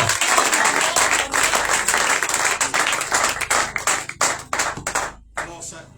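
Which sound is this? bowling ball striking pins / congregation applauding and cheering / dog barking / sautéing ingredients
congregation applauding and cheering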